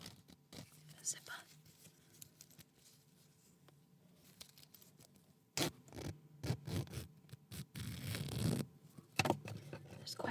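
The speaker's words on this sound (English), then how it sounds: "Zipper." A zipper is pulled in slow, effortful bursts during a quiet knitting session, with close scraping zips and rustles clustered in the second half after soft whispered talk.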